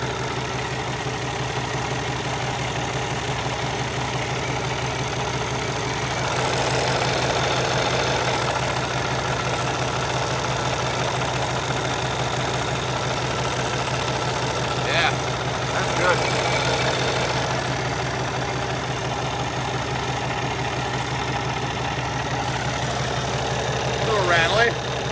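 A truck engine idles steadily with a slightly rattly, vibrating tone, a continuous low drone running unbroken throughout with a few faint incidental noises over it.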